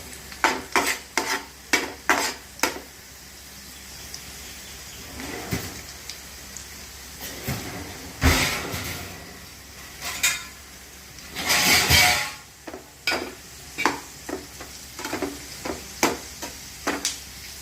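Ingredients for rava kesari are fried in a pan until golden, with a soft background sizzle under a series of rhythmic scraping strokes from a spoon, some quick and some drawn out; nobody speaks.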